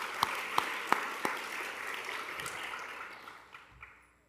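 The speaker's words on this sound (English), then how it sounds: "So one more round of applause." A round of applause at a guide and service dog graduation ceremony, a few sharp isolated claps up front, then a moderate, fairly quiet crowd clapping that thins out and trails off near the end.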